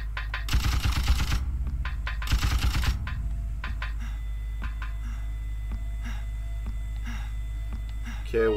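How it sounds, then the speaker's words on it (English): Submachine gun fire in the Dreamcast game Carrier: two short, loud rattling bursts near the start, followed by quieter game ambience with a steady low hum and faint distant clatter. "Let's actually see if I can make anything happen with the SMG"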